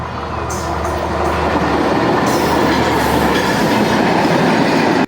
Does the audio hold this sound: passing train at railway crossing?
yes